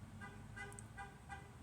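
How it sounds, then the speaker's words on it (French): Car horn honking outside, faint short repeated toots in a quick series, distant beneath a quiet indoor background. "Oh, t'arrêtes de klaxonner, toi?"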